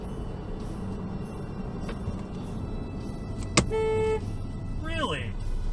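A pickup truck gives one short, steady blast of its horn amid city traffic in Portland in late autumn, heard at a moderate distance over the continuous road and engine noise inside a car.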